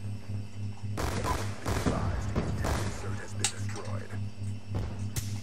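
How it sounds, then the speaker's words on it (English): Gunfire from the Black Ops 2 video game: repeated bursts of automatic fire and single shots at moderate level, with a player talking over the action. "I'm gonna have to shoot that, aren't I?"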